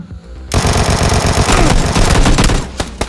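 Loud, close burst of sustained automatic gunfire in PlayerUnknown's Battlegrounds, a rapid unbroken stream of shots after a brief quiet start.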